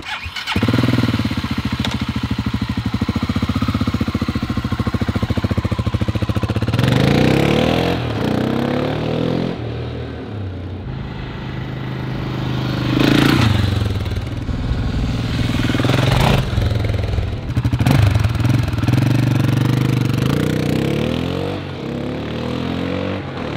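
A single-cylinder motorcycle fitted with an IXIL Sove Hexoval Xtrem Evolution slip-on exhaust sends out a loud, throbbing, close thump that swells in several revs and eases back between them.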